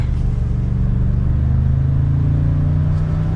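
A 2022 Ford F-150 SuperCrew Platinum pickup accelerates, heard from inside the cab as a loud, steady engine drone whose rumbling tone slowly climbs in pitch, with no talking over it.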